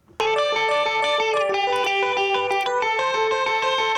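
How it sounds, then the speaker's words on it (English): A heavily distorted electric guitar plays sustained, gritty chords with a thick saturated tone, loud and steady throughout. "adding some pretty heavy distortion"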